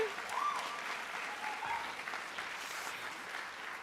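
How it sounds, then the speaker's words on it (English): Applause from a high school commencement audience, a steady wash of clapping that holds evenly from start to finish at moderate loudness with no voices over it. "Now that deserves a damn round of applause."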